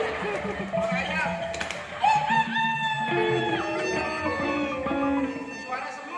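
During a live Lenong Betawi theatre performance, a person mimics a rooster's crowing in a warbling, high-pitched voice, with other voices chattering around it.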